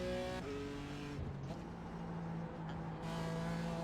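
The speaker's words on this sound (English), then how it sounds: "A little bit of an unnecessary upshift there" A GT4 race car in iRacing at Laguna Seca winds up its engine, then a quick upshift drops the pitch. The revs climb again in a steady, close, buzzing drone with no talk.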